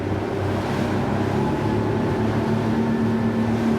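Twin engines of a Highfield ADV9 motor boat drone steadily at speed as it picks up pace, a loud continuous hum with water rush and no voices.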